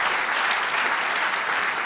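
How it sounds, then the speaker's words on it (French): Audience applause at an awards ceremony honouring a planet influencer of the year, a dense, steady wash of many hands clapping close and loud, with no pauses. "Je pense qu'on peut encore les applaudir"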